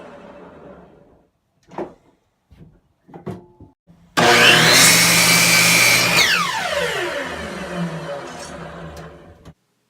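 A few soft knocks and handling sounds, then a loud power drill whirs for several seconds and winds down to a stop while drilling pocket holes in cherry wood.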